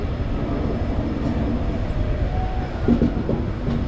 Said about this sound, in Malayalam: കോഴിക്കോട് നിന്ന് വണ്ടി എടുത്തു കേട്ടോ.